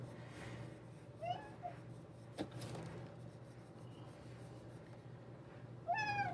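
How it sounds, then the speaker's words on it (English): A house cat meows twice, a short cry early on and another near the end, fairly close over a steady low hum in an indoor room while oil pastels are being blended. "I'm pushing my cat out of the way."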